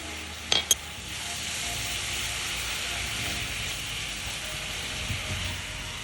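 A spoon stirs toasted crumble with sugar and maple syrup in a hot pan, giving a steady soft sizzle and scraping after two sharp clinks at the start.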